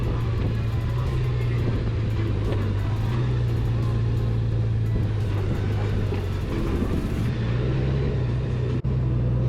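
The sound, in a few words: Honda GoldWing motorcycle accelerating through corners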